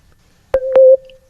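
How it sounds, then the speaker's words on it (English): A mobile phone goes off during a podcast recording, giving two sharp clicks and then a short, steady electronic tone that sounds loud and close before cutting off. "My phone is going off"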